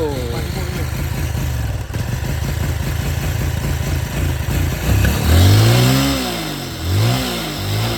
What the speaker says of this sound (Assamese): এবাৰ শেষবাৰৰ কাৰণে বাইকখন ষ্টাৰ্ট হৈছে